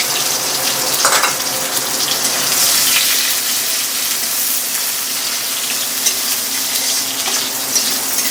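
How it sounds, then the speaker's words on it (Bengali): Chopped onions hit hot oil in a pan for pointed gourd and shrimp curry, giving a loud, steady sizzle that holds for several seconds with small bursts of crackle and no talking. "এবারে আমি কুচনো পেঁয়াজগুলো দিয়ে দিচ্ছি।"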